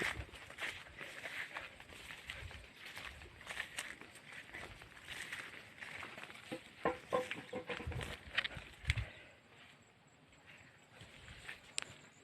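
Chickens cluck and call outdoors in a rural setting, moderately close, mixed with scattered rustling, footsteps and other farmyard noise, with no talk.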